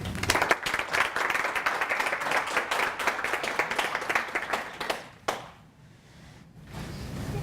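An audience claps to welcome a lecturer to an academic talk on Akkadian statues. The dense clapping runs for about five seconds and then stops abruptly, leaving near silence with a last stray clap.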